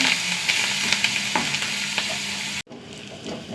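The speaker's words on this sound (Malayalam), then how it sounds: "ഒരു വറ്റൽമുളക്, കുറച്ച് കറിവേപ്പില, നന്നായി മൂത്ത് വരട്ടെ." Dried red chili and curry leaves fry in hot oil with a steady, close sizzle and occasional stirring clicks, then the sound drops abruptly and continues more softly.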